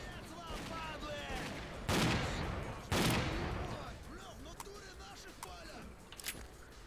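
Gunfire from a new weapon in the shooter game S.T.A.L.K.E.R.: Clear Sky sounds as two loud, close blasts amid other game noise, while a person talks over it.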